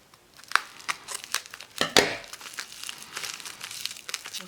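Crinkly plastic packaging around vintage Czech jewellery is pulled and torn open in a run of sharp, close crackles and rustles, with louder bursts near the start and a steadier crinkling after.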